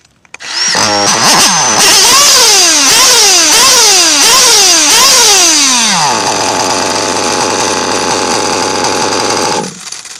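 A moped engine, its carburettor mixture just richened, revs loudly and close in a string of rising and falling blips, then holds a high, steady buzzing whine before dropping away at the end.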